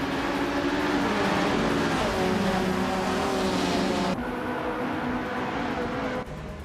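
A classic 1966 MG BGT race car engine in a racing video game drones loudly and steadily, its revving pitch rising and falling with gear changes, with a few abrupt cuts in the sound.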